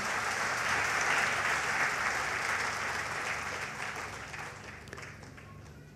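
Audience applause for the DXN company at a business presentation, a steady wash of clapping that holds for several seconds and then gradually thins out, with no talk over it.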